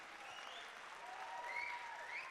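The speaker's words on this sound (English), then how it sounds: "Crowd really getting behind him" A crowd at a climbing competition applauds a climber in steady, dense clapping with some cheering and whistles, sustained throughout at moderate distance.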